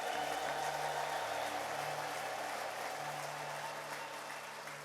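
A church congregation at New Creation Church claps steadily in sustained applause, with a held, wavering vocal tone of ululation above it, the whole crowd sound slowly easing in volume.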